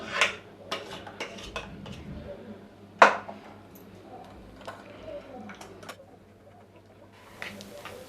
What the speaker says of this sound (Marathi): आता आपण काय करूया, गालणीने गालून घेऊया।